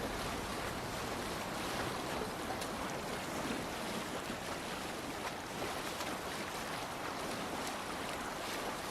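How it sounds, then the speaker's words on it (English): Rowing a boat across open sea in Assassin's Creed Valhalla: a steady, dense wash of waves and wind-blown water fills the whole stretch, loud and continuous, with no talk. "继续滑，继续滑，这要滑到天亮。"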